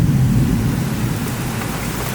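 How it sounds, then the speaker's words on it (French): A strong, highly electric thunderstorm over Bordeaux in June brings steady heavy rain close by, with deep rolling thunder rumbling under the downpour. No voices are heard. "c'est l'un des orages les plus électriques que j'ai vu de ma vie"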